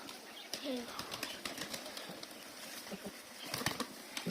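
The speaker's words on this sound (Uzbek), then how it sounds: "Tepada uchib yuribdi hali kaptarlar." Pigeons flap their wings overhead outdoors at a bird market, soft fluttering and pattering bursts coming and going amid faint background talk and a brief bird call.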